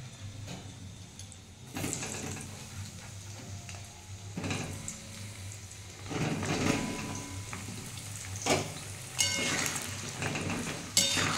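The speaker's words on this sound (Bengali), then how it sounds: "আমি এতে পটলগুলো ভেজে নেব।" Pointed gourd pieces frying in hot oil in a wok, a steady low sizzle running throughout with occasional clinks and scrapes of a utensil against the pan at close range, no talking.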